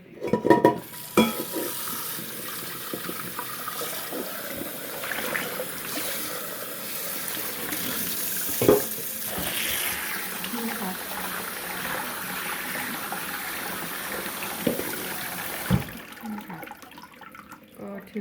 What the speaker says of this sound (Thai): แล้วก็จะล้างนิดนึงนะคะทุกคนล้างด้วยน้ำเย็น